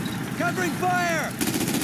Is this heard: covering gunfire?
yes